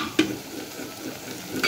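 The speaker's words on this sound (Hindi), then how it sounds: "बस इसमें डाल देते हैं हम लहसुन अदरक का पेस्ट और तमाम मसाला और हरी मिर्चें" Ginger-garlic paste, spices and green chillies fry with softened onions in a pan, making a low, steady sizzle with a couple of brief utensil scrapes near the start and end, close by and without speech.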